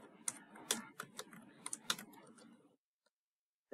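Typing on a computer keyboard, a quick irregular run of close key clicks for about two and a half seconds, then silence with a last faint tap near the end.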